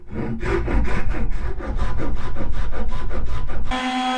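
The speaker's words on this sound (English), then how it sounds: "first thing I'm going to do is just take these dowels off with this pull saw" A pull saw cuts through wooden dowels during a Vauxhall Vivaro camper van conversion: quick, even rasping strokes repeat steadily and close by, then stop abruptly near the end and give way to a brief different scrape.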